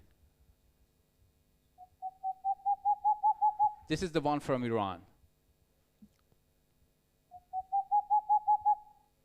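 An owl recorded in Iran gives a rapid, evenly spaced series of soft hoots rising in pace. Someone briefly speaks, then another hoot series follows from a quiet background.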